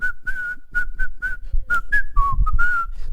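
A person imitates someone casually whistling while walking during a church sermon, producing a clear, melodic tune of short repeated notes followed by a few rising and falling slides, close and fairly loud.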